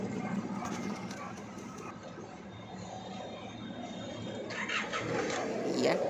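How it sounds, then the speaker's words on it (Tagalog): Isuzu D-Max pickup engine idles steadily after a repair for low power and knocking, a smooth, even mechanical hum heard close up with no talk over it. "Ayos na yung tunog. Hindi na maingay yung makina."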